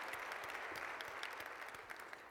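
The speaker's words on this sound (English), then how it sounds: "One more round of applause, please, for Milton Chen" Applause from a conference audience at a general session fills the space with dense, steady clapping that sounds moderately distant, with no talking over it.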